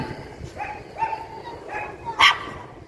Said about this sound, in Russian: Собака на балконе маленькая тявкает.